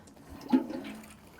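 Water pours onto newly planted lettuce in a garden bed, a short splashing gush that swells briefly and then fades, close by with no talk.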